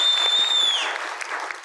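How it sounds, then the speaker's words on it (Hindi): Studio audience applause for a gift hamper winner on a television talk show, a steady wash of clapping throughout that fades slightly toward the end. "इनके लिए बहुत सारी तालियां।"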